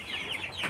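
Local cross-breed chickens clucking on a farm, a brief burst of soft, overlapping clucks and chirps at close range, with no voices.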